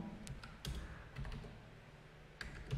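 A computer keyboard clicks in short, sparse bursts of typing, quiet and close, with pauses between keystrokes and no voices.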